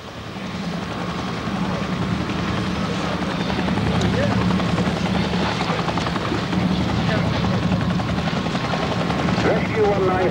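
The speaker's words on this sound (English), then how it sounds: "The helicopter turns up just in time to see the divers pulled on board." A rescue helicopter at sea, searching for divers, beats steadily and loudly overhead with a continuous rotor chop, while a voice talks over it.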